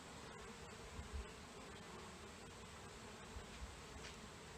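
A honey bee swarm in Petaluma, California, gives off a dense, steady buzzing hum that fills the air evenly and continuously, with no voices.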